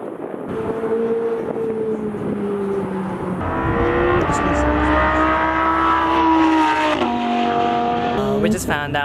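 Race cars driving past on a track, engines rising and falling as they approach and recede, a loud rising whine building, with a second car passing near the end.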